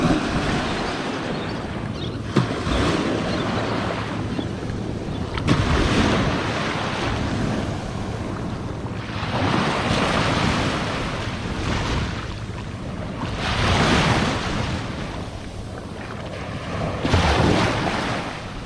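Ocean surf at Phala Beach, Thailand, rolls in as steady swells of wave wash, loud and close, with gusts of wind noise over the microphone.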